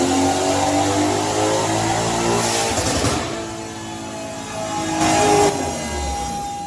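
A Mercedes C63 S AMG sedan runs hard on a chassis dyno, its engine roaring loud and close through sustained revving, dipping briefly and then surging again toward the end.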